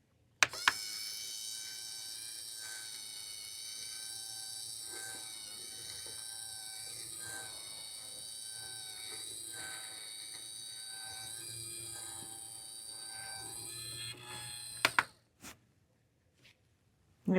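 A Simplicity bias tape maker machine runs with a continuous high, buzzing electric whine that holds steady for about fourteen seconds, then clicks off and falls silent apart from a few faint knocks.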